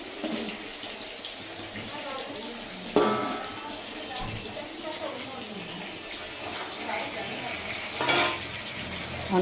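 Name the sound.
potatoes frying in a pan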